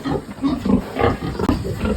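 Breeding sows and gilts in a farm pen grunt and snort in close, irregular bursts after receiving a parvo vaccine booster shot, with no talk.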